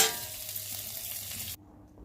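Paneer pieces frying lightly in a pan make a steady broadband sizzle that runs for about a second and a half, then cuts off abruptly into near silence.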